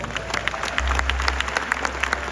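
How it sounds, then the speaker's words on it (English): An audience at an Amway Malaysia gathering applauds the management staff, a dense, even patter of many hands clapping with a low rumble underneath. "Give them a round of applause"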